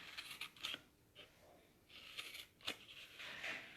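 Scissors snip through fabric for a pencil case in short, faint crisp cuts, several bursts spaced across a quiet moment with no talk.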